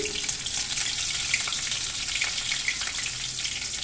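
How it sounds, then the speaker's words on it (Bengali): Chopped garlic frying in hot refined oil in a wok, a steady, loud, bright sizzle that holds evenly throughout with no talking. "তেল গরম হয়ে গেলে দিয়ে দিচ্ছি রসুন কুচি"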